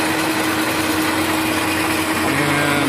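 An Ametek 30 electric motor runs at full speed, a loud, steady whine with a constant hum that holds throughout, close up and alone.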